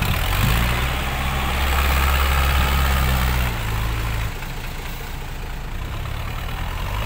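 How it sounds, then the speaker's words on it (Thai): Two farm tractors push together, their engines giving a loud, deep, steady rumble with heavy low drone that drops in level partway through and continues more evenly, with no talking. "รถไถยันมา2คันด้วยกันครับ"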